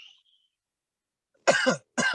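Two sharp, loud coughs in quick succession from a man in a podcast interview, close and distinct after a brief quiet stretch.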